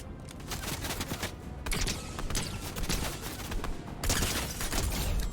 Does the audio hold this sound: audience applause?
no